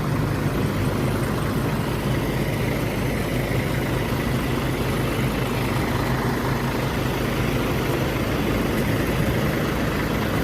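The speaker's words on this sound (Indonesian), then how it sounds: "Mesin lagi dipanasin." An Adhi Prima Jetbus3 bus engine idles while warming up, a steady, loud low-pitched rumble that continues unchanged throughout with no voices.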